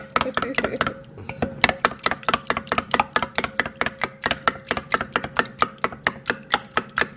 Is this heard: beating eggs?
yes